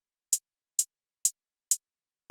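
Trap hi-hats filled every four steps for a trap beat: four sparse, crisp ticks evenly spaced and played alone, with a faint cut-off at the very end.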